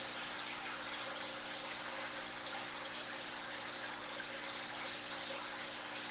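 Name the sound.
water pouring from hang-on-back aquarium filters into 180 tank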